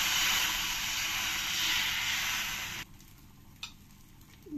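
Thin pitha batter hits an oiled hot nonstick tawa with a loud, steady, close sizzle. It cuts off sharply partway through, leaving quiet handling noise.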